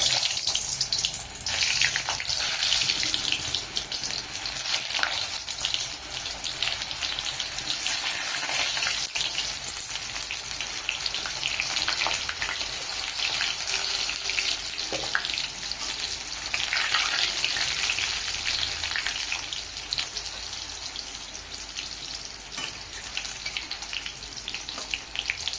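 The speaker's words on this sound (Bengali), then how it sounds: "আলু লাল লাল করে ভেজে নিয়েছি" Potatoes fry in hot oil in a wok, giving a loud, steady sizzle that continues unbroken with no one talking.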